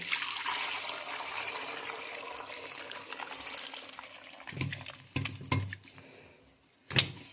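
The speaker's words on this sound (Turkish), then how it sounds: "Kaynatmış olduğum etimin suyunu süzüyorum." Boiled meat broth pours and trickles steadily through a strainer into a pot, followed by a few clanks and knocks of metal near the end.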